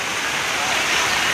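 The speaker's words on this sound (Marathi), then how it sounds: "हे बघा पाणी भरायला टप लावले" Water gushing steadily into tubs set out to fill, a loud, dense, unbroken rushing roar heard close up with no pauses.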